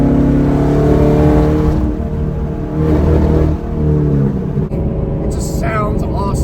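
2015 Chevrolet Camaro Z/28 engine revving loudly and steadily up and down through gears, close and dominant, with a short high-pitched squeal near the end.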